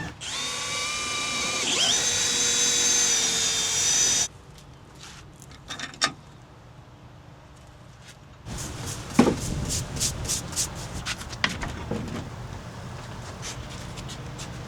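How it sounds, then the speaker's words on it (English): A power drill whines loudly for about four seconds drilling holes in a boat, then stops, followed by quieter clattering, tapping and handling noises with a few sharp knocks. "we can drill new holes in this"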